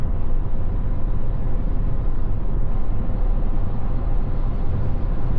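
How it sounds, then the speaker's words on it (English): Steady road and tire roar fills the cabin of a GMC Sierra 3500 Denali cruising at 75 mph on a highway, a constant low rumble with surrounding truck traffic blending in. "there's a light hum, but there's trucks around me. I can hear that more so than I can hear the tires."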